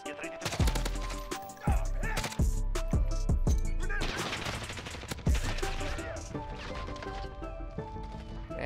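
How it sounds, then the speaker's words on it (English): Gunfire from Modern Warfare with a Grau 5.56 rifle, sharp repeated shots in quick bursts with heavy low booms, loud and close, under a busy game mix. "Why are you shooting my body for, bro?"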